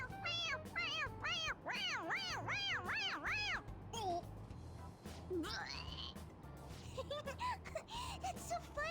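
A toy cat in Persona 5 Royal meows again, a rapid run of repeated wavering meows up front, then scattered squeaky mews and yelps later, fairly close and clear over low background sound.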